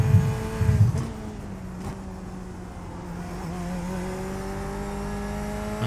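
Corvette race car engine in a racing video game, a loud continuous drone with steady harmonic tones rising and dipping through gear changes, close and constant with no talk.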